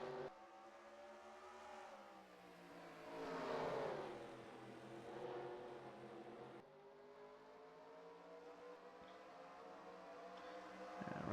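Race car engines roar through a NASCAR Racing video game lap at Bristol Motor Speedway, a dense whine of several cars that swells around the middle and holds steady, with no talk over it.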